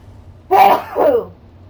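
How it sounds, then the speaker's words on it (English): One close, forceful sneeze, a sharp burst followed by a quick second push, over a low steady background hum. "I'm going to sneeze."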